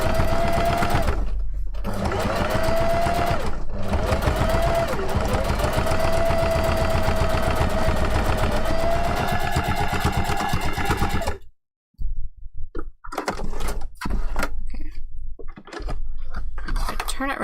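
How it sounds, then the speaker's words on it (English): A sewing machine back stitches webbing on a kitsune fox tail for a fursuit, running fast and loud with a rapid mechanical rattle. It pauses in short gaps, then stops and restarts in bursts near the end. "So I am back stitching when I get onto the start and end of the webbing too."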